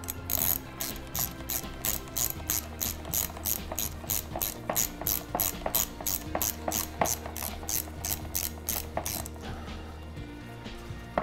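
Rapid, crisp clicking of a ratchet driving a 10 millimeter socket, with evenly spaced bursts repeating for about nine seconds before stopping, close and clear with no voices.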